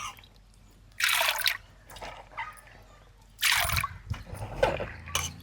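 Soaked chana dal being rinsed in water in a home kitchen: two bursts of sloshing and splashing, with soft trickling and drips in between, close and fairly quiet.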